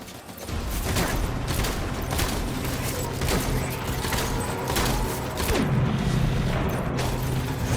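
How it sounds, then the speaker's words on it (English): Gunfire in the video game Death Stranding amid a battle: a dense, continuous fusillade of shots with mechanical clanks and booms, steady and loud throughout. "opening fire"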